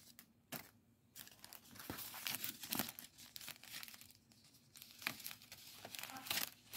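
A paper Christmas pop-up card is folded by hand, giving faint, intermittent crinkles and soft creasing rustles at close range.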